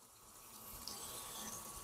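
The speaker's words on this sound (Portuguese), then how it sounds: "A água está entrando por aqui e ela sai por esse sistema aqui" Water streams steadily through a simple recirculation system on a guppy aquarium in a greenhouse, giving a soft, continuous trickling wash at low level with no talking.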